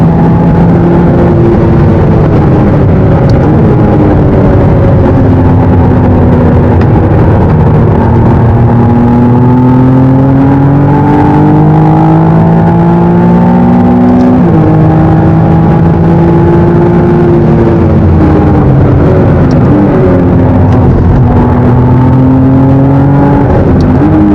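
A McLaren sports car powers hard out of a corner, engine roaring loud and close, its pitch climbing and dropping through repeated gear-driven surges over about twenty seconds, with no speech.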